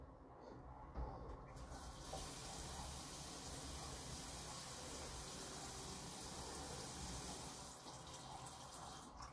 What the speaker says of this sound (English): can you run the bathroom sink?